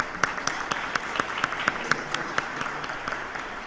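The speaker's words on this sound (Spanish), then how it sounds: "Un aplauso a Gandhi, por favor" Rhythmic applause for Gandhi Góngora, leader of a Finabien network of friends, with distinct evenly spaced claps from a small group, moderately loud and close, without voices.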